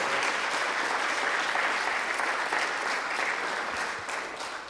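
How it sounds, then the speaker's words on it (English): An outdoor crowd at a flag raising for the International Day Against Homophobia, Transphobia and Biphobia applauds students, a continuous even wash of clapping that tapers off near the end. "can we give them a round of applause for all their submissions and work?"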